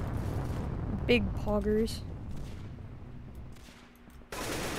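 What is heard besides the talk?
gunshots in the video game Roblox Arsenal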